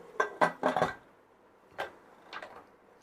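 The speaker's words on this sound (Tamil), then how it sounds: "குக்கர் மூடியை போட்டு மூடிடுவோம்." Metal pressure cooker lid set on and clamped shut over coconut milk vegetable pulao: a quick cluster of clattering metallic knocks, then two softer clinks after a pause, close and fairly quiet.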